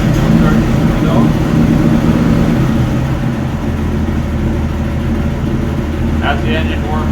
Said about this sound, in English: As the engine warms up, continue pushing the choke in until it's all the way in